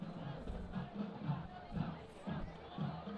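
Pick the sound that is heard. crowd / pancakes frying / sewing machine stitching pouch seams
crowd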